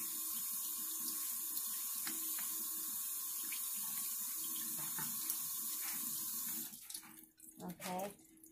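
A kitchen tap runs a steady stream of water over bean sprouts, a close, constant hiss that breaks into uneven splashing and gurgling near the end as the flow is disturbed.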